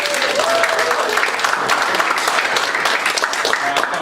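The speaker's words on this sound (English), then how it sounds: "let's hear a round of applause for Team Ryan Gosling and Puppy" Audience applause at a live improv comedy show: steady, loud, dense clapping from a crowd filling the whole stretch, with a brief voice over it near the start.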